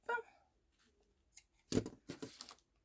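Scissors cut through cord after a decorative knot is tied, giving a few faint, close snips and crisp cutting sounds in a quiet room.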